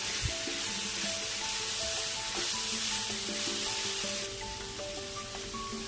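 Momo filling sizzles steadily in a hot pan as pepper powder and soy sauce are stirred through it, a soft, even frying hiss with faint scraping and no voices.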